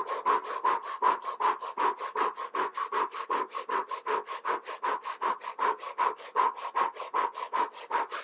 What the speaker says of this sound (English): it's a cannon breath. So that's breath of fire through the O-shaped mouth